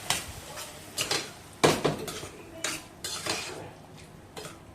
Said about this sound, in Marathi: आपण जे मिक्स करून घेतलेल्या भाज्या होत्या त्याच्यामध्ये टाकते तेलावरती परतून घेते